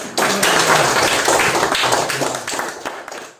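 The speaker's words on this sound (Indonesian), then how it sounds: "Coba tepuk tangan dulu." A classroom of students claps hands together in a brief burst of applause lasting a few seconds, dense and close, fading at the end.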